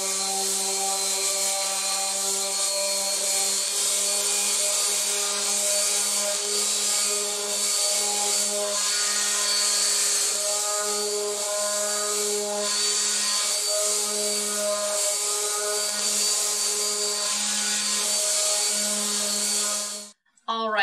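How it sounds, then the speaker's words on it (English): A wooden tealight candle holder cut from scrap wood is sanded with 120 grit on a power sander, giving a steady, loud, continuous whine with constant hum for about twenty seconds before cutting off abruptly. "So we're going to sand it with some 120 grit and finish up with some Danish oil."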